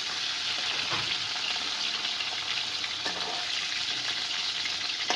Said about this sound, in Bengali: মনে হয় কোথাও ফুলকপিতে ভাজা ভাজা হয়ে যাচ্ছে